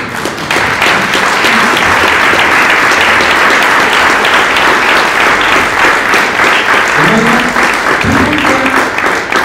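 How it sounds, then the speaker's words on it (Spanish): A church congregation at a Christian service bursts into loud, sustained applause that fills the room steadily for several seconds, with a few voices calling out faintly beneath it. "Me da un aplauso al Señor."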